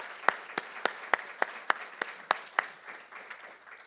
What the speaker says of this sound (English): Can we have a round of applause for Dave and his team?